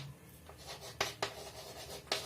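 Chalk or a pen writing on a board or paper during a maths lesson, heard as faint scratchy strokes with a few sharper taps, close and quiet over a low steady background hum.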